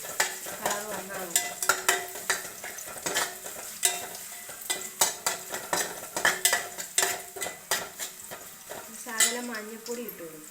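Crushed ginger and garlic frying in a pan for a buttermilk curry, with steady sizzling punctuated by frequent sharp clinks and scrapes of a metal spoon against the pan, close and clear with no talk.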